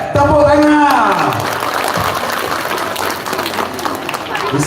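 Applause from a school crowd at a Maulid Nabi celebration, loud and dense, breaking out right after a child's short spoken answers and carrying on steadily with a mixed, noisy texture.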